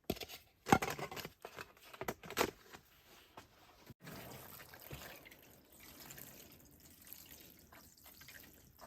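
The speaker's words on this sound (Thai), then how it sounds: "เดี๋ยวจะให้น้ำ" Water poured onto chili pepper seedlings in seed-starting soil, quiet splashing and trickling with a few sharp knocks at first, then a soft steady flow, close and faint.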